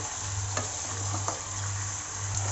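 Pepper chicken in a Kerala-style pepper masala sizzles steadily in an open pan while a spoon stirs it, giving a few soft scrapes over the constant frying hiss.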